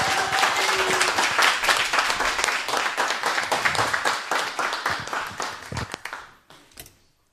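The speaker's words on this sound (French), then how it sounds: "Je vous demande de les applaudir très fort" A live studio audience claps and cheers for a band, a dense, loud round of many hands that thins into scattered claps and dies out near the end.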